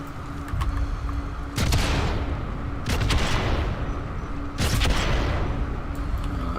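Video game gunfire as an enemy is shot: repeated loud bursts of shots, three heavy volleys with booming echoes that ring out between them.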